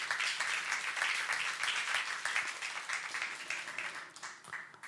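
A church congregation applauds at a youth service, a steady, moderately distant wash of many hands clapping that runs unbroken and fades slightly toward the end.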